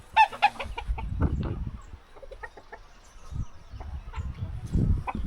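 Chickens cluck and call repeatedly in a rural village farmyard where ducks, chickens and pigs are kept, a sharp nearby call at the start followed by scattered clucks, with low rustling and other farmyard noise in between.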